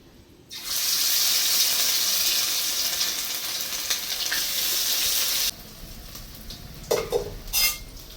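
Prawn fritters sizzle loudly in hot oil for several seconds, a dense steady crackle, then the frying drops to a quieter hiss with a few sharp clinks near the end.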